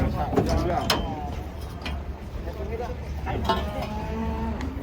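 Cows moo several times from a short distance as they are unloaded from a truck at a livestock market, with people talking and farmyard commotion around them.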